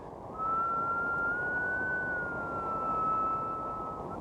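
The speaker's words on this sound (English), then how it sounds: "As the train comes towards you and goes away, the note rises and then falls" A train whistle sounds as one sustained, steady tone that rises slightly and then falls again as the train approaches and passes, showing the Doppler effect, heard alone over soft background noise.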